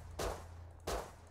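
Two loud, booming gunshots in the Rust video game, spaced under a second apart, with a third starting at the very end, each sharp onset followed by a short decaying tail.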